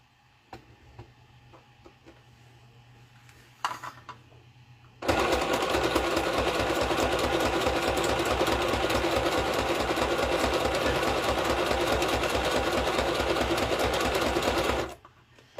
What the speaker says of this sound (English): And I'm going to sew around 3 sides.